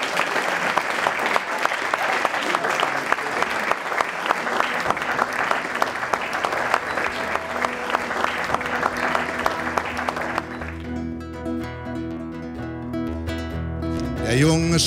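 A live open-stage audience in Hamburg gives a thunderous round of applause for a performer, dense clapping for about ten seconds before it fades out and a guitar-and-voice song begins.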